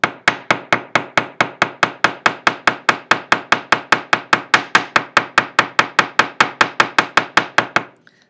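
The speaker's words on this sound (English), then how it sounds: "You could also run down the edge of it with something like the edge of your chasing hammer." The edge of a chasing hammer strikes a metal edge to texture it, about thirty sharp, evenly spaced close taps in a steady rhythm, each with a short ringing decay, ending abruptly.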